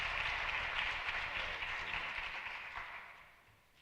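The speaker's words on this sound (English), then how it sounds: "Let's have a round of applause" Audience applause at a school commencement at Harlem Academy, a soft, fairly distant wash of clapping that gradually fades toward the end.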